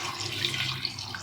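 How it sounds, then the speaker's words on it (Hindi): Water splashes into a pot of beef nihari, a brief, close, steady pour like running from a tap, with no voices. "इसको पानी डाल के ना तकरीबन एक और जग पानी का जाएगा"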